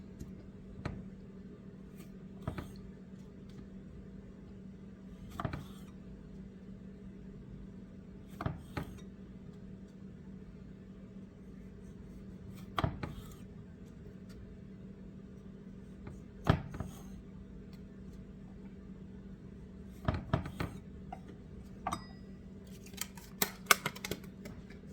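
Small tomatoes halved with a knife for a summer salad with basil vinaigrette, giving sparse, light taps and clicks of blade on board, spaced a few seconds apart and growing busier near the end, against a steady low background hum.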